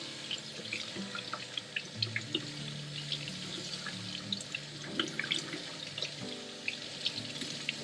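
Warm water runs steadily from a tap into a sink, with small splashes and drips scattered over the flow.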